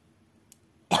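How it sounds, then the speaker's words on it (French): Near silence, a tiny click, then a single short, harsh cough right at the end, close and loud. "parce que je tousse"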